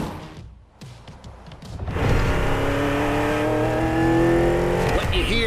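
NASCAR race cars in The Crew Motorfest come roaring in, engines rising from quiet to a loud sustained howl with revving and tire noise, a voice speaking over them.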